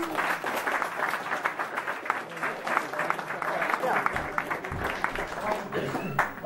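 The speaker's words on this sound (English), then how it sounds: "Round of applause, please, for the Oliver Twins once again." Steady audience applause fills the space, many hands clapping in a dense continuous patter with scattered louder claps.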